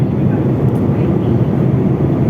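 Steady, loud broadband roar fills a passenger airliner cabin during a long-haul flight, a constant engine and air rush with no pauses.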